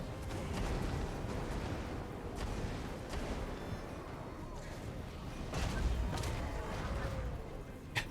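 Repeated explosive coral bolt blasts in Warhammer 2: Total War pop off every second or so, sharp cracks over a constant low battlefield rumble, with a louder cluster near the end.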